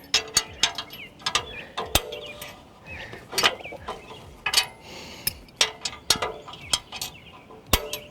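A bike rack mechanism being tightened down on a Jeep gives sharp repeated metallic clicks and ratcheting clacks in an irregular rhythm, close and distinct with quieter scraping between them.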